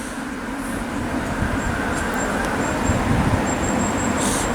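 Steady traffic noise of cars passing by outside, a continuous broadband rumble and hiss at moderate loudness with no talk over it.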